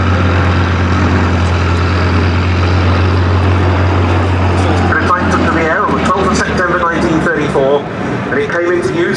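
A Gloster Gladiator biplane flies over Duxford at an airshow, its radial engine giving a steady propeller drone that swells and then fades into wind noise, with a commentator speaking over it throughout.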